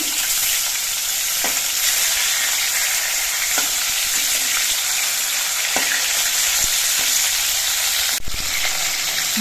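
Pieces of silver carp fry in hot oil with a loud, continuous sizzle close at hand. A few sharp clicks and pops break through, including one distinct knock near the end, and there is no speech.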